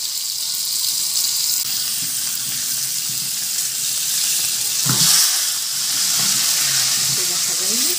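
Tilapia fish frying in hot oil, a loud, dense sizzle that holds steady close up, with a brief surge of spitting and bubbling midway and faint stirring movements.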